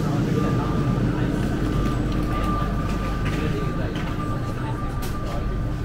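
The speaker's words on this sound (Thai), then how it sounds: "รถไฟมาแล้วค่ะทุกคน" A train pulls into a station platform in Singapore, a loud steady rumble and rolling rail noise with a faint high whine running throughout, people talking over it.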